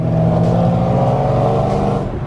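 A BMW E92 M3 engine drones loudly and close by, punctuated by a few brief, sharp exhaust pops spaced roughly half a second apart.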